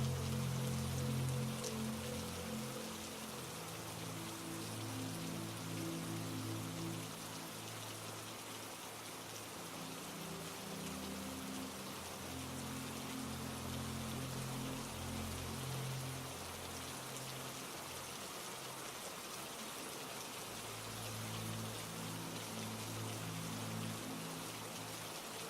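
Rain falls steadily, making a soft, continuous hiss of drops hitting the ground. A low, gentle tonal wash sits quietly underneath throughout.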